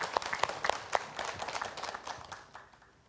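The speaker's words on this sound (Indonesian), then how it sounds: "Tepuk tangan buat Habib Muhammad Syahab" An audience claps for a speaker at an Islamic religious talk, with several sharp individual claps standing out early over a lively crowd applause that gradually fades away.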